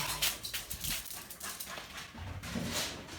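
A pet dog named Cyril whimpers and whines in short, uneven yips and breaths, close and fairly soft, with no talking over it.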